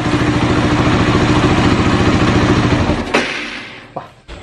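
Modified carbureted Honda CBR 150 motorcycle engine idling with a steady close rumble, then shut off about three seconds in, leaving a few clicks and faint rattles as it dies.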